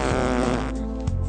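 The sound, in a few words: fart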